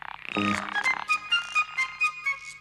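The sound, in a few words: frog croaking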